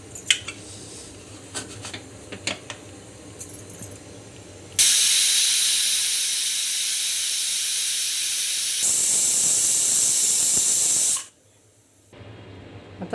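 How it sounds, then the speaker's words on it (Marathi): A pressure cooker on a medium flame cooking goat head curry lets out a loud, steady hiss of escaping steam for several seconds, then cuts off abruptly, with faint kitchen clatter before it. "मध्यम आचेवरती आपल्याला 5 ते 6 शिट्ट्या काढून घ्यायच्या"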